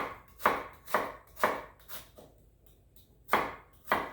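A knife cuts an onion into slices on a cutting board, nearly but not fully through, with six crisp, evenly spaced chops close by and a short pause before the last two.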